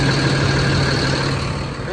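A 2005 Sterling Acterra crane service truck sits idling, its engine giving a steady low rumble with a constant hum, close and unbroken across the short stretch, with a voice faintly present.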